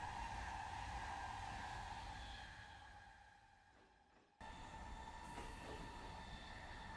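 A New Jersey Transit train runs with a steady, faint rumble and rail hum that fades, cuts out briefly, then returns at full level with a high squeal, and no talking.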